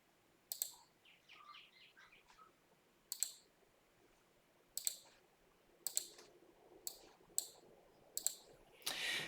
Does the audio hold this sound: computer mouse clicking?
yes